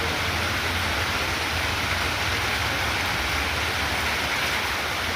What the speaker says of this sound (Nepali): ठुलै पानी पर्यो।